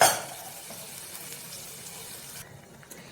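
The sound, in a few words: water poured into sambar in pan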